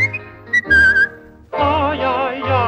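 A person whistles a short melodic phrase, close and clear, followed by a fuller tuneful passage with musical accompaniment.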